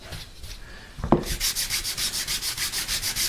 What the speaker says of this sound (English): A little more critical sanding the sides